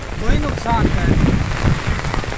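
Rain falls steadily on a surface as a continuous patter throughout, with someone speaking over it.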